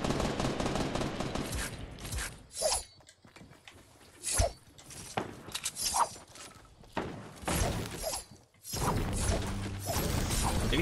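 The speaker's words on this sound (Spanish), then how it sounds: "Disparando." Gunfire in the video game Fortnite, repeated bursts and scattered shots mixed with clattering and crunching game effects, dense and fairly loud throughout with brief quieter gaps.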